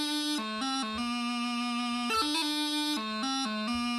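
Highland bagpipe with a steady drone under the chanter, which moves from C down to low A using a doubling, with quick grace-note blips breaking up the sustained reedy notes.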